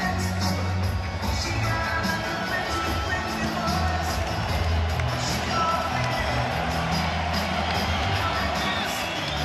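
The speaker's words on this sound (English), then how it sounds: "We'll hear the ovation now as he makes his way into the ring" A boxing arena crowd roars and cheers continuously as heavyweight Derek Chisora walks to the ring before his fight with Joseph Parker, a broad, sustained wash of noise with a commentator's voice faintly over it.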